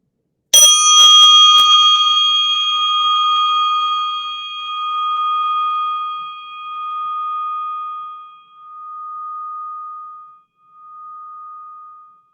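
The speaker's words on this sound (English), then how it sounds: "I'm going to ring this little Tibetan bell" A small Tibetan bell is struck once with a bright, clear ring, its shimmering tone slowly pulsing and fading away over several seconds in silence.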